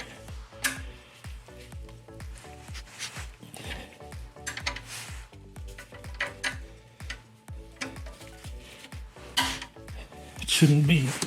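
A 17 mm wrench ratchets steadily on the oil drain plug of a 2017 Kia Soul with a 2.0L GDI engine, a rapid regular ticking of clicks that grows busier and louder near the end.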